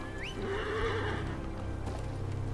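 A horse in the Game of Thrones Kingsroad video game gives one loud rising whinny with clip-clop hooves, set against steady in-game background sound.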